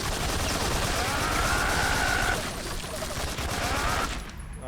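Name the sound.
gunfire from a gun in the video game Metal Gear Solid 3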